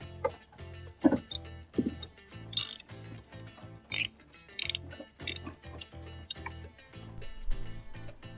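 A hand ratchet clicks in short bursts of rapid pawl ticks while 10mm bolts are backed out of a Mercedes fender during bumper removal, close up with pauses between strokes.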